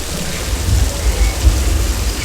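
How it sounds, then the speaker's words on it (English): Artificial rain falls from an overhead sprinkler hidden above a studio set, giving a loud, steady wash of water with a low rumbling undertone throughout. "So rain is created by an overhead sprinkler hidden from view."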